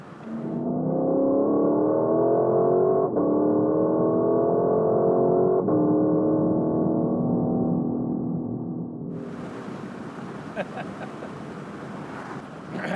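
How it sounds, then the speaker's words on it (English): A 5-liter V8 in a 2021 Lexus LC500 convertible revs loudly and steadily with rising pitch, broken by brief shift-like dips, then falls back to a quieter idle with some wind noise. "Convertible is the same 471 horsepower, 5-liter V8, makes 398 pound-feet of torque, so it's a fun engine."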